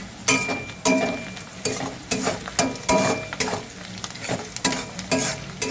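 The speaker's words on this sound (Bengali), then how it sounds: "এদিকে বেরেস্তাটা একটু নেড়ে দিই" Onions frying for biryani beresta are stirred in a hot pan, giving repeated scraping strokes roughly every half second over a continuous close sizzle, with no talking.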